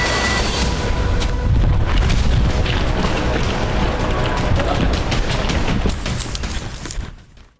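Explosions from Israeli strikes on Hezbollah positions in southern Lebanon: a loud, sustained barrage of booms and sharp cracks with rapid repeated blasts, fading out near the end.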